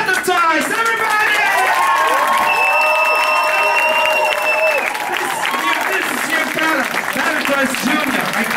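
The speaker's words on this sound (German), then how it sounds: "ein Applaus für my dancers, Battletoys, everybody!" A talent show crowd in Plochingen claps and cheers loudly for a B-boy dance crew, with whoops rising over steady dense applause while music tones ring and a voice speaks through parts of it.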